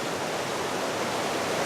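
A river flows through a gentle S curve near an autumn waterfall, a steady, dense broadband rush of water close by, with no voices.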